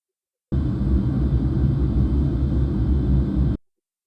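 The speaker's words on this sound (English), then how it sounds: "same airport or airplane cabin" A steady, loud low rumble of airplane cabin noise runs for about three seconds, then cuts off abruptly into silence.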